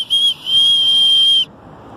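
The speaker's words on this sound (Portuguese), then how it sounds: "Ela vem com apito para emergência, ó, aqui no freio." An emergency whistle built into the strap buckle of a Kailash Camp 25 L backpack gives two shrill, steady toots, a short one and then a longer held blast, loud and close.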